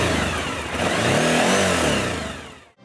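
A motorcycle engine revs loudly and close at a biker festival opening the riding season, holding a strong sustained roar that swells mid-clip before cutting off abruptly near the end, with no talk over it.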